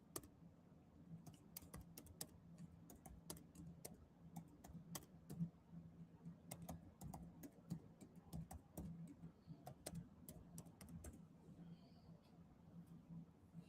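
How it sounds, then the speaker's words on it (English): Soft typing on a computer keyboard indoors, with irregular quick key clicks and short bursts and pauses, faint and close, over a low background hum, with no talk. "I'm typing in Bible."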